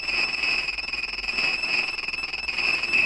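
Sound from a broken printer, reworked with effects into a pulsing drone: sustained high tones over a throbbing, wavering hiss that swells and dips in a loose repeating pattern, steady throughout with no talking.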